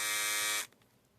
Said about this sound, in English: And there is the Lady Shaver.